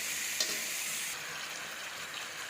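Taro leaves sautéing in a pan with turmeric, chilli powder and salt, a soft continuous sizzle with faint stirring scrapes, steady and fairly quiet throughout.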